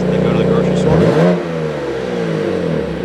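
A BMW M2 CS engine revs up hard, a loud rising roar with a sharp climb near the one-second mark before settling into a steady, lower drone; a voice talks over it.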